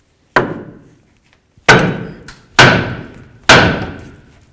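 A hammer strikes a steel steering knuckle beside the lower ball joint stud of a 1988-2002 GMC Sierra 1500, four sharp metallic bangs with ringing decay, one alone followed by three in quicker succession, close and loud.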